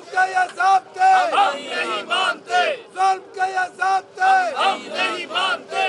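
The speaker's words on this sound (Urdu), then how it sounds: "مسلم لیگ نون نے کوٹ لکھپت جیل کے باہر احتجاج کرتے ہوئے حکومت کے خلاف نعرے بازی کی۔" PML-N protesters chant anti-government slogans outside Kot Lakhpat jail, a crowd shouting in loud rhythmic bursts, call-and-response slogans repeating about twice per second.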